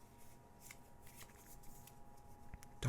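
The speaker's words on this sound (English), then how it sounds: "We have to do 4-card shuffle" Pokemon trading cards from a Sun & Moon Team Up booster box are shuffled by hand in a quiet room, a soft, steady riffling and sliding of card stock that runs throughout, ending in a louder close handling knock.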